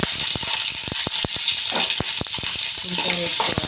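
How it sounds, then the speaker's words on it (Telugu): Green chillies frying in oil for a pongal chutney, a loud, dense sizzle with repeated sharp crackles and spatters throughout, close up and without speech. "ఇప్పుడు పచ్చిమిరపకాయలు వేయించుకున్నాం. అలాగే కొంచెం ఆయిల్ వేసుకున్నాం."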